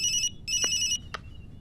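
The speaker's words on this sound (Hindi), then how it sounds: "फोन मुझे दो प्लीज।" A phone ringtone sounds in two bright electronic bursts during a film scene. Soft knocks follow, then quiet.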